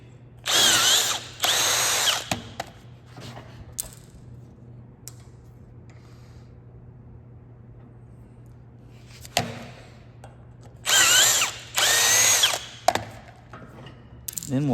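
Power drill threading a 1/4 inch hole in a Toyota pre-runner truck bumper, heard in two loud separate bursts with quiet shop noise in between.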